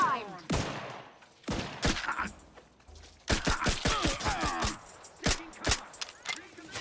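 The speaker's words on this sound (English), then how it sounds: "Always getting shot in this blooming game." Gunfire in the video game The Outer Worlds 2 comes as loud, close bursts of shots, some single and some in rapid runs, with a quieter stretch between them.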